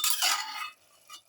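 A spoon stirs a lamb and cauliflower stew with black pepper and garlic in a pressure cooker, making a brief close scraping swish that fades to a faint clink.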